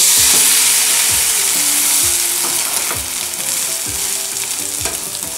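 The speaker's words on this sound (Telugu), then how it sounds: "ఇది కింది సైడ్ ఫ్రై అయిపోయింది కాబట్టి మరోవైపు తిప్పి కాల్చుకోవాలి" A spicy masala egg omelette frying in a pan after being flipped, with a loud continuous sizzle and a regular series of scraping and tapping sounds from a utensil against the pan.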